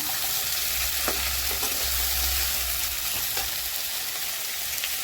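Bhetki fish sizzles steadily in a pan of oil, a constant crackling hiss with a few soft stirring clicks and a low hum beneath.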